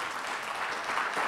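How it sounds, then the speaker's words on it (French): Audience applause at a tenth-anniversary round-table discussion as panelists take their seats: a steady, even patter of many hands clapping at moderate volume, swelling slightly toward the end, with no voices. "On peut les applaudir le temps qu'ils s'installent"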